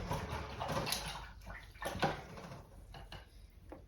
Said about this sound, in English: I'm rinsing my brush out